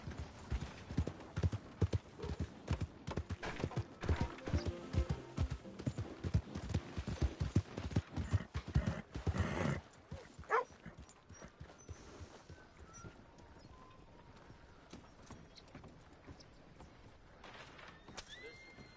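Rhythmic clip-clop of horse hooves trotting in Red Dead Redemption 2, loud for about ten seconds, then fading to quieter steps with a brief whinny.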